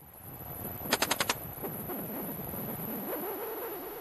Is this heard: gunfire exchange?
yes